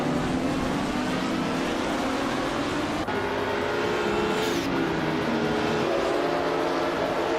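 Race cars battling for position on a track, a dense, continuous roar of engines at steady loudness with a brief passing whoosh partway through, with no voices.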